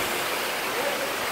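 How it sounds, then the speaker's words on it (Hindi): A high waterfall at Moti Jharna in Sahebganj, Jharkhand, heard as a steady broadband rush of falling water, fairly faint and unbroken. "कितना ऊंचा झरना है"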